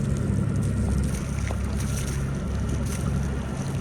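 A boat's engine throttled back to about six knots on the approach into Cowes harbour in December, a steady low drone with water and wind rush throughout, close and continuous, no voices.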